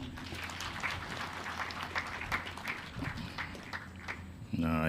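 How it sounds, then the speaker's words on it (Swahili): A crowd at a formal presentation applauds in a steady patter of many hands, moderately loud, with voices audible over it and a tonal sound rising at the very end. "Tupige tena makofi."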